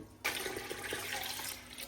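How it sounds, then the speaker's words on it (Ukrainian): Cold water gushes suddenly from a tap and pours steadily into a metal pot on the stove, a continuous splashing rush close by with no talking. "Ставлю каструлю на плиту і заливаю холодною звичайною водою."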